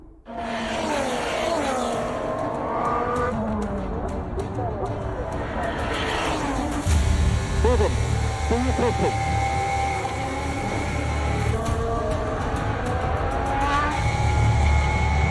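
An F1 car spins out on track in F1 23 after clipping the curb. A loud racing engine howls and shifts pitch over squealing, skidding tires, under excited race commentary.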